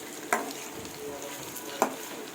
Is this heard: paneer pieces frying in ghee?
yes